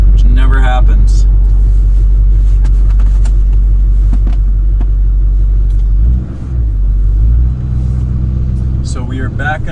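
A warmed-up truck engine idles with a deep, steady rumble close by while the vehicle backs out, the drone dipping briefly near the end as voices murmur faintly over it.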